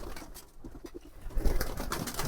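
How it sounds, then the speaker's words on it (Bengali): Farm pigeons coo in a short run of soft, rhythmic low notes as they are released, followed by louder rustling and fluttering nearby. "এখন শুধু কবুতরগুলাকে ছেড়ে দেবো গাইস।"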